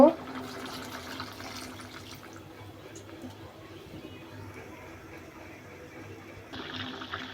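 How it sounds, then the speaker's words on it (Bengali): Water or broth is poured into a catla fish curry in a pan, a soft continuous gushing splash up close, partly under a person talking. "এখন আমি এর মধ্যে পরিমাণ মতো ঝোল দিয়ে দিব"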